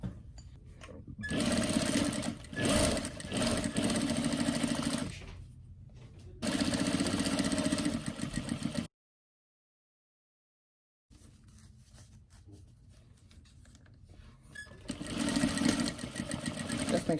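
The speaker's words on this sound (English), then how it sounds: "Okay, so now we'll sew 1/4 inch." Sewing machine stitching a quarter-inch seam on a fabric face mask, loud close bursts of rapid mechanical stitching with brief stops and a silent gap, while a person talks at times.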